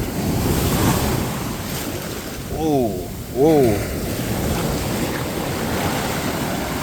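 Wind-blown ocean surf and rushing water fill the scene as a Rolex Submariner watch gets a real-life water test in the sea, with two brief bursts of splashing and a short exclamation from a man.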